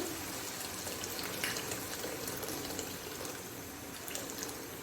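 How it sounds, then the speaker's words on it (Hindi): A glass of water poured into beef bhuna keema frying in a pan, a steady splashing gush and sizzle that runs continuously at moderate loudness, close by, with no talk. "एक गिलास पानी डाल के"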